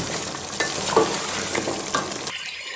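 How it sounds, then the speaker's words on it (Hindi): Meat with coriander and dried red chilies frying over high heat, a loud, close, steady sizzle with a few scraping stirs, cutting off abruptly near the end; nobody speaks. "अब इसकी भुनाई करेंगे हम तेज़ आंच पर"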